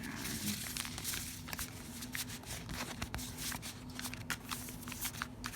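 An oracle deck with a fresh finish is shuffled by hand, giving a steady run of soft riffling and flicking card sounds, close and continuous over a low background hum.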